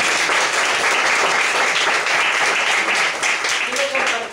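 A church congregation applauds together in a sustained burst of dense clapping and cheering, loud and close, tapering slightly near the end.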